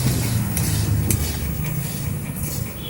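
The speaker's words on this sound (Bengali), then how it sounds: "এভাবে আমি সবজির সাথে সাবুটাকে ভালো করে মিশিয়ে দিলাম" Soaked sago is stirred into vegetables in a pan, making steady close scraping and swishing over a soft sizzle, with a few sharp utensil clinks against the metal.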